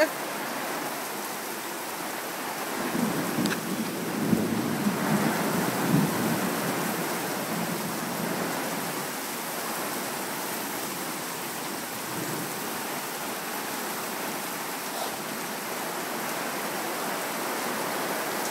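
Steady heavy rain pours down in Greensboro, Georgia, a dense wash of noise, with a low rumble of thunder swelling briefly early on.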